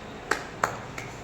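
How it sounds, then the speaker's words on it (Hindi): Hand claps during a morning Durga puja for Navratri: three sharp, isolated claps at an even pace, crisp and fairly close, the last one softer. "फिर घंटी बजाते हुए, ताली बजाते हुए माँ दुर्गा को प्रेम पूर्वक हम जगा देंगे।"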